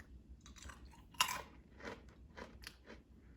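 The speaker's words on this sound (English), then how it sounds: "You can probably hear me chew it." A crunchy snack, hard like a peanut, is chewed close to the microphone, giving a series of quiet, crisp crunching bites in an irregular rhythm.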